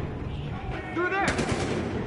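Gunfire in the Battlefield Hardline video game, a sudden burst of loud shots breaking in midway over background chatter and game sounds.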